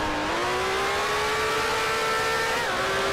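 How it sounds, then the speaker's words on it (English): Climax V8 racing car engines in the GPL racing game, 1965 F1 cup on the Adelaide street circuit: a loud, continuous engine drone whose pitch climbs slowly as the cars accelerate together close behind. "I'm hearing 2 Climax V8 engines behind me."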